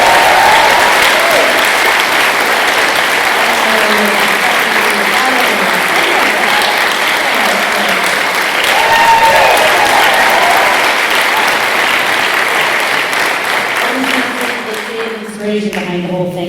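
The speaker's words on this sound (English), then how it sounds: "I'd like a huge, huge round of applause for Mr." Sustained, loud applause from an audience at GaelForce 2019, dense clapping with some cheering voices mixed in, tapering off near the end as talk resumes.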